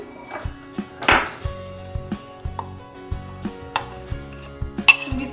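A spoon scrapes and clinks against a pan while milk powder mixture for mawa is stirred, giving repeated rhythmic metallic taps and scrapes, close and fairly loud.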